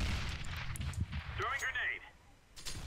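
A grenade blast in the video game CS:GO, a deep booming rumble underneath a player talking, with other game noise around it.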